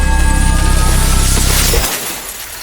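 A loud, sharp shattering crash of glass, with bright fragments ringing briefly before fading into quiet.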